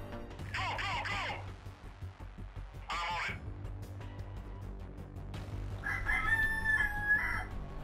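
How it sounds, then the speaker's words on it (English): Chickens in a guerrilla-warfare shooter game cluck and crow repeatedly, loud bursts of rooster calls over a steady background hum, with a shrill squawking call near the end. "And the chickens won't stop."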